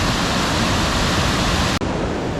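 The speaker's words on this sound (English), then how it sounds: "Like, the river is just ripping." Loud, steady roar of a rushing river by a small waterfall at Hopewell Rocks, Bay of Fundy, broadband and continuous, close by, with a brief dip near the end.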